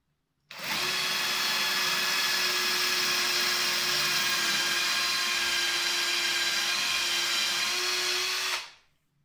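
A power drill whirs steadily at close range for about eight seconds while installing a shower panel, starting and stopping abruptly, with a constant high-pitched motor whine.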